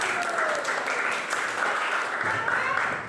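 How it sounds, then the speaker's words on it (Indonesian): Pupils in a classroom during a teaching session clap together, a brisk continuous patter with children's voices mixed in. "Tepuk tangan."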